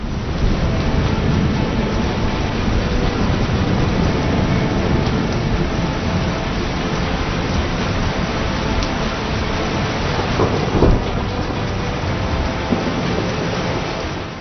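Heavy monsoon downpour in Pune with water collecting on the streets, a loud, dense, continuous roar of rain that holds steady throughout with a faint rumble beneath, no talking.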